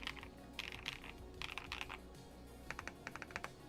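Typing on a plastic Logitech keyboard fitted with foam: quick clusters of close, crisp key clacks come in uneven bursts with brief pauses, alone with no voices.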